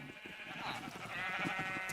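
A Minecraft sheep bleats faintly, a short wavering cry over a low background hum, with no talking.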